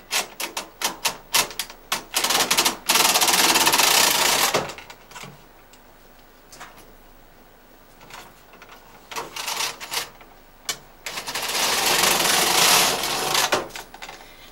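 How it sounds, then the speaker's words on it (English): Bond knitting machine carriage running across yarn: bursts of rapid clattering and rattling in two long passes with brief clicks between, close and fairly loud, no talking. "And then I just start knitting away."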